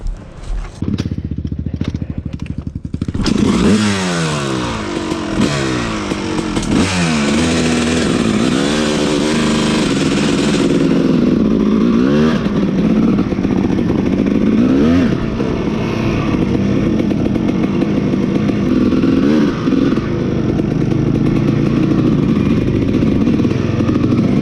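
A dirt bike engine on an off-road trail starts up and then revs loudly and roughly, close by. It climbs and falls in pitch again and again with a rattling, buzzy tone for about twenty seconds.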